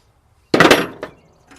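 A small screwdriver tapping a gasket-sealed part loose on a 1970 Ford F100 fuel system, heard as one sharp close metallic knock followed by a lighter second tap, then quiet.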